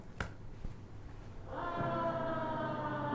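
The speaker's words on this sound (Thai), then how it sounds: "เสียงแบบรถตำรวจ เสียงไซเรนเไซเรนสัญญาณเตือน" After a quiet stretch with a couple of knocks, a steady, harmonic siren tone starts and holds, moderately loud and unbroken.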